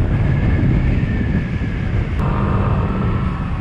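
Steady, heavy roar of strong wind buffeting the microphone while riding a Sym Symphony ST 200 scooter, loud and constant throughout with a low rumble underneath.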